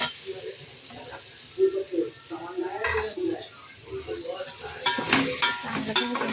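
Whole spices roasting in a pan before shahi biryani masala goes in, giving a soft dry sizzle with scraping stirs and a few metallic clinks from the utensil, under a quiet voice, louder bursts near the end.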